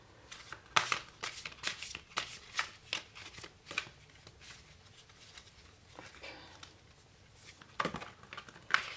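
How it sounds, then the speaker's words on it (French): Oversized oracle cards are shuffled by hand at close range, with a run of quick papery slides and flicks, a lull in the middle, then a final burst of shuffling. "Alors, on va tirer une carte."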